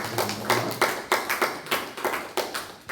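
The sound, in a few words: congregation applause for the choir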